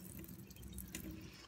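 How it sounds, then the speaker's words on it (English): Water poured from a bottle into a measuring cup, a faint, continuous trickle with light splashing, close by and alone. "So I'm going to pour out 3/4 cup of water."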